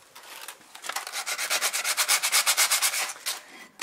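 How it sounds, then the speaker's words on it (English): Sandpaper is rubbed back and forth over a rusty brake disc, a fast series of about twenty rhythmic rasping strokes that builds from soft to loud and then stops, close up with no voices. "you can remove these things by sandpaper, like in here."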